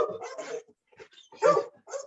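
A pet dog barks and yips in a few short, close bursts with brief pauses between them, moderately loud indoors, with no talking.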